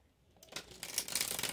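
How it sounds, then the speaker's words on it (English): Tarot cards from a gilded deck being shuffled by hand, a soft riffling and papery rustle that starts after a brief hush and grows into a steady, close, fairly quiet flutter with no talking. "I'm going to give it a few good shuffles."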